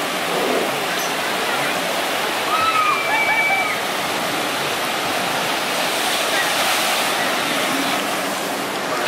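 Water roars in a loud, continuous rush as a boat plunges down the drop of a water ride at Legoland Billund, a thick steady wash of spray with no letup.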